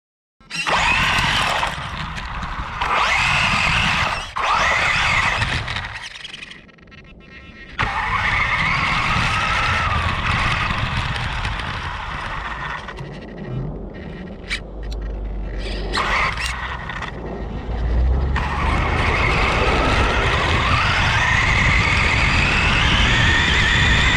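A Traxxas Bandit RC car drives hard with a loud, high electric motor whine, repeated skids and tyre scrabbling, bursts rising and cutting off over about twenty-four seconds, close to the mounted camera.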